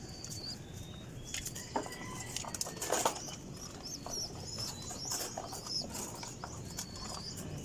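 Caged pigeons coo softly and steadily throughout, mixed with scattered chirps and light pattering at a moderate distance.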